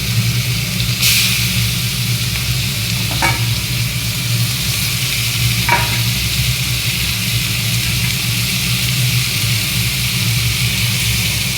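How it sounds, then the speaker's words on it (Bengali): Garlic and ginger paste frying in a wok after chicken leg pieces were fried, a steady loud sizzle throughout with a couple of brief clinks of a utensil against the pan. "এবার কড়াতে একে একে রসুন বাটা, আদা বাটা, এবার এগুলো দিয়ে দেবো।"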